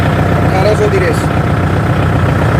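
A Kubota MU4501 tractor engine runs at 1800 rpm with a steady, even low drone throughout, while someone talks nearby over it.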